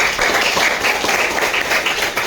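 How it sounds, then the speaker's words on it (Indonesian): A classroom of students claps together in a short burst of applause, a dense, fairly loud patter of many hands that stays even for a couple of seconds and fades slightly at the end. "Oke, kasih aplaus dulu."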